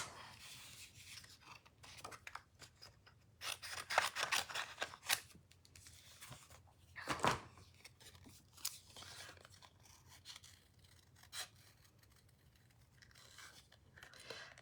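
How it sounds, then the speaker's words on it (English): Scissors snip quietly in short, irregular bursts of crisp cutting and rubbing, with a louder cluster around the middle, in an otherwise hushed indoor room. "Let's get my scissors."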